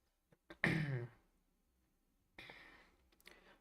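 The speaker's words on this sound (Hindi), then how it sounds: "थोड़ी थोड़ी खांसी हो जाती है" One rough, throaty cough stands out in near silence, followed a second later by a softer cough and some breathy clearing of the throat.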